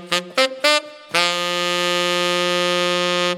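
Tenor saxophone plays a short articulated line: three brief detached notes followed by one long sustained tone, close and clear with no talking.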